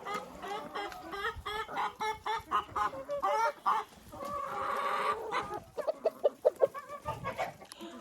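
Backyard hens living at a country dacha cluck and cackle in quick, uneven bursts, several birds close by and fairly loud, with a short stretch of busier overlapping calls midway and no human voices.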